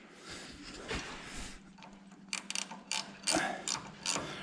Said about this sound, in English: my ratcheting end wrench fit in there